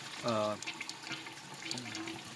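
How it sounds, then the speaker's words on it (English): Water runs and gushes from a toilet flush during a stoppage-clearing test, a steady rushing fill under a brief burst of nearby talk at the start and faint voices later. "You'll notice that the flush has two parts. It fills up, evacuates, fills up, and evacuates a second time."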